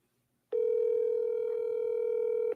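A steady phone dial tone holds for about two seconds at moderate loudness and then cuts off cleanly, heard while a call is being placed during a livestream.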